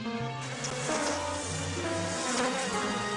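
A cartoon swarm of bees makes a steady, dense insect buzzing that fills the air continuously, with several droning tones layered together nearby.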